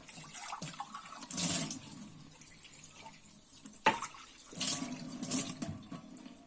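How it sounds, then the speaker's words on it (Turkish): Water is swished around inside drinking glasses in a kitchen while making a cup dessert. It comes as several short sloshing splashes with quiet gaps between them, close by. "Çıkarttığımda mahallebim bardağa yapışmasın diye Su çalkalıyorum."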